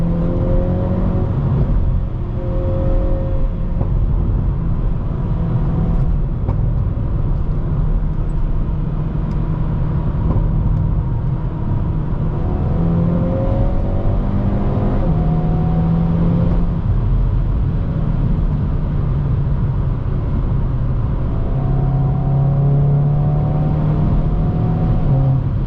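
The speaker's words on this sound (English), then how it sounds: "Aggressive upshifts at the top. There's a pretty big kick." A 2022 Hyundai Veloster N with a dual-clutch gearbox accelerating hard from inside the cabin, engine pitch climbing repeatedly and dropping at each quick upshift over a constant road drone.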